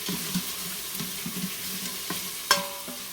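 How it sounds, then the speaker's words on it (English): Onions sauté in a pan, giving a steady soft sizzle with light stirring scrapes and a brief clink near the end, with no talk. "we're just sauteing it all in the same pan"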